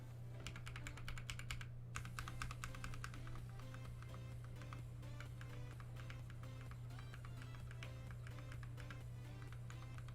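Fast, continuous typing on a budget mechanical keyboard, dense clacking keystrokes close up over a low steady hum.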